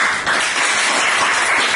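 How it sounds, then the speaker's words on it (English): Dense applause from a Toastmasters meeting audience, a steady wash of many hands clapping, close and loud throughout, with no speech over it. "Give yourself a big round of applause."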